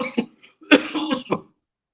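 A person with a month-long cough coughs a few times in quick, harsh bursts, close by, followed by silence.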